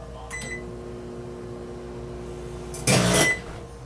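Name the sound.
broken microwave oven beeping and making noises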